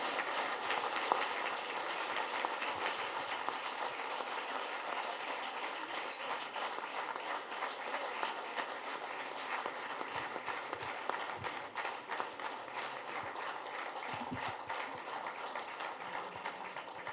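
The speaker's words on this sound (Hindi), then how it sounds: "एक बार खड़े होकर सब तालियां बजाते हुए बुलाइएगा नाजिया इलाही खान को" A standing audience applauding at a public event, a dense, steady wash of many hands clapping that holds at an even level for the whole stretch.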